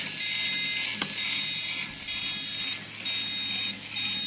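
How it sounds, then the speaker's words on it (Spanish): Alarm buzzer on a refrigeration temperature monitor sounds in repeated loud, high-pitched pulses about a second long with brief gaps, nearby with no talk. "Entonces la alarma con el buzzer."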